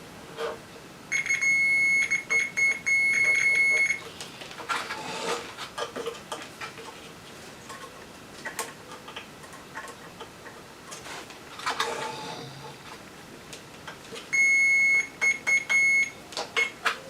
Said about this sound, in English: multimeter on the beep function